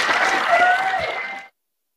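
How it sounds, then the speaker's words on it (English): An audience at an anniversary Q&A panel gives a round of applause, dense clapping and cheering that ends abruptly after about a second and a half. "let's give these guys a wonderful round of applause"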